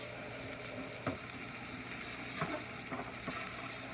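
Beef browns in a hot pan with a steady, soft sizzle and frying crackle, broken by a few scraping stirs of a utensil, fairly quiet and close, with no talking.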